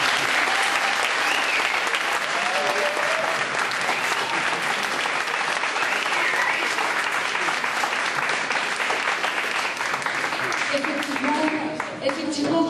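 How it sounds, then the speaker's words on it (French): Long, full applause from attendees at a founding general assembly, dense and loud throughout, with voices rising over it as it finally thins out. "Alors, je pense qu'on peut les applaudir."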